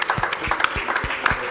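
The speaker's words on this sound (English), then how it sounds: "A round of applause, please." An audience at a live interview event breaks into a round of applause, dense overlapping clapping with a few sharper claps standing out, sustained and steady for the whole stretch.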